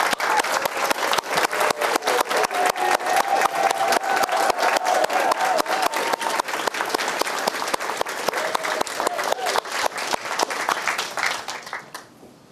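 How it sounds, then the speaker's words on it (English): A large convention audience applauds the event staff at an opening ceremony of a spiritual gathering: dense, steady clapping that holds strong for several seconds, then fades at the end. "Any staff here, please stand up and applaud."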